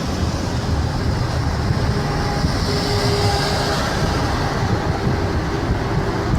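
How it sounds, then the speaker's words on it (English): A train rolls past nearby in a dense urban transit-oriented development, giving a loud, steady rumble with faint rail clatter throughout and no speech. "And there's the train right there."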